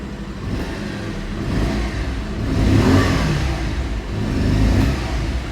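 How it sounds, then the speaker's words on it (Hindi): A 2025 Bajaj Pulsar 150 motorcycle runs with a throaty exhaust note, idling close by and rising in two revving swells, with no talk. "अब कर लेते हैं बाइक को स्टार्ट और एग्जॉस्ट नोट सुन के देखते हैं।"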